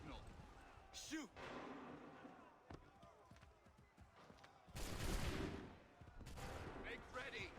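A musket volley fired by a line of soldiers in Assassin's Creed 3, a broad rolling burst of gunfire following shouted orders amid battlefield noise, with a second volley near the end.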